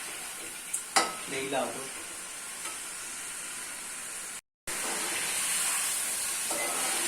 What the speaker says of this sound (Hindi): गोश्त की थोड़ी सी बुनाई करेंगे इस तरह से